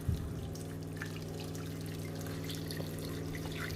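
Rich beef stock is poured gently into a pan in a steamy kitchen, a faint, soft trickle over a steady background hum.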